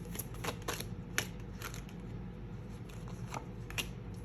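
Tarot cards being shuffled and drawn, a run of quick riffling bursts and soft slaps repeating in an uneven rhythm, close and fairly quiet, with no talk.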